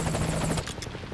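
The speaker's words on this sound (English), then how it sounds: "Where's the helicopter at?" A helicopter in Metal Gear Solid 5 Ground Zeroes throbs with rapid rotor chopping, loud and close for the first half before thinning into a lighter, more distant whir.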